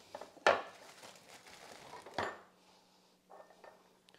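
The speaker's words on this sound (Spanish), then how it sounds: "lo que voy a hacer ahorita es retirar los platos que también están calientes" Hot plates are lifted and set down in a home kitchen while making a taco salad: two sharp ceramic clacks with clinking in between, fairly close, then softer rattles.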